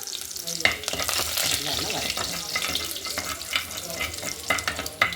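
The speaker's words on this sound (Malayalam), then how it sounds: "ചൂടായി വരുമ്പോഴത്തേക്ക് കുറച്ച് കടുക് ഇടണം. കടുക്. അപ്പോൾ കടുക് പൊട്ടിക്കൊണ്ടിരിക്കുക." Mustard seeds spluttering and popping in hot oil for a Kerala jackfruit thoran, a dense close sizzle with sharp pops scattered through it and no talk.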